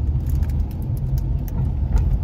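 A truck drives along with a constant low engine rumble and road noise heard from inside the cab, loud and steady with no talking.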